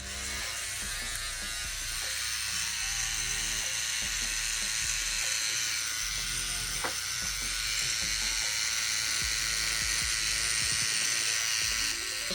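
Microneedling pen buzzing steadily against skin of the face, a constant high electric whir held close and fairly quiet throughout, with no talking.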